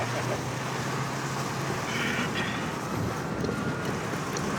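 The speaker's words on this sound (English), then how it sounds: "Wind's blowing good." Steady outdoor wind blows continuously in the countryside during a whitetail deer hunt, a dense unbroken roar that fills the whole stretch without pauses and drowns out faint background sounds.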